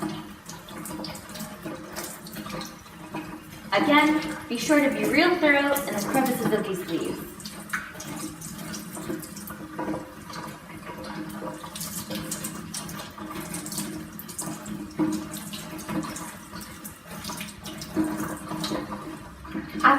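Tap water runs steadily into a sink while leafy greens are rinsed and rubbed by hand, a continuous close splashing that sits under a speaking voice.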